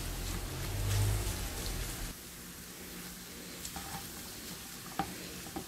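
Yakimeshi fried rice being stirred in a hot pan, a steady soft sizzle with occasional faint scraping clicks, louder at first and then quieter and even.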